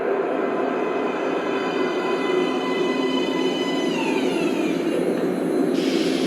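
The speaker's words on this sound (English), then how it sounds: "Please step away from the edge of the platform. Train coming in." Metro train from the Metro Last Light Redux game pulling into an underground station, a loud steady rumble with rising and falling wheel squeal tones that continues throughout, ending with a brief hiss of brakes.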